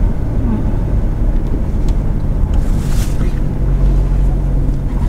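Steady wind roars and buffets the microphone, a constant low rumble with occasional gusts, loud and close, in Bangui, Ilocos Norte, Philippines.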